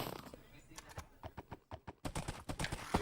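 Hollow, rhythmic hoof clops of a horse in Minecraft on hard ground, a steady walking gait, close and clear, with a voice talking over part of it.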